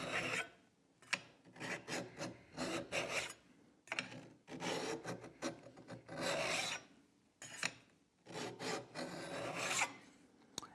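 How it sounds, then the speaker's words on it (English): A steel card scraper's edge is rasped along a metal file in about a dozen short, close, scratchy strokes, each a sharp grating burst separated by brief pauses, with no voices. "we're going to make a couple strokes along the file"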